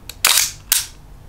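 A film camera fires with two sharp mechanical clacks less than half a second apart as the mirror flaps up and the shutter opens and closes, close and loud with no talking.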